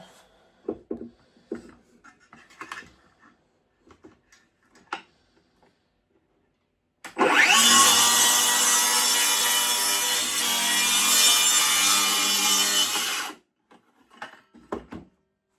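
A Milwaukee rear handle saw rips through wood in one steady, loud cut lasting about six seconds, with no bogging, framed by quiet clicks and handling noises before and after.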